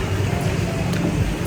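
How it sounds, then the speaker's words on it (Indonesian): Heavy rain in Bandung, a dense steady hiss with low rumble, constant and close throughout, with no voices. "Hujan deras banget."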